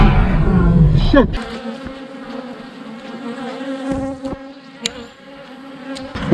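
Bees buzz in a dense, steady swarm after two beehives were destroyed. The buzzing is close and fairly loud and follows a brief burst of louder noise at the start.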